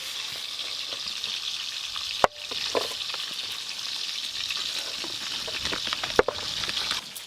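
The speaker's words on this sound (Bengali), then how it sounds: "তেল তো খুব ভালো করে গরম হয়ে গেল, তাড়াতাড়ি মাছ ভাজা হয়ে যাবে।" Fish, stated to be rupchanda, fries in hot oil with a steady, dense sizzle and crackle, broken by a couple of sharp clicks or knocks from the pan.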